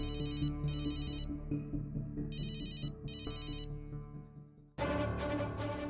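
A phone ringtone trills in two pairs of electronic bursts over a musical background, followed by a louder burst of music.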